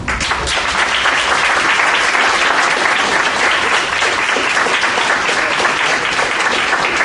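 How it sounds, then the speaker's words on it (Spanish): A large audience applauds loudly and steadily, a dense wash of clapping that continues without pause. "Estos aplausos son para Julia."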